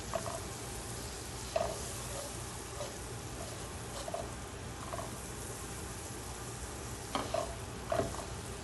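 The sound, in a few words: seviyan vermicelli dry-roasting in a pan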